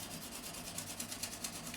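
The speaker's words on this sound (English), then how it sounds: "All I need to do is just sand over with some 400 grit" Sandpaper of 400 grit rubbing over the fret ends on a 1957 Hofner President guitar during a refret, a quiet, steady rasping with regular back-and-forth strokes and no talking.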